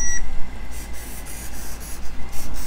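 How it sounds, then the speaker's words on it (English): A 1/10 scale 2WD short course RC truck's steering servo whirs in short, repeated high-pitched bursts as it turns left and right, close up and fairly loud, with no talking. "and you can hear the servo right now."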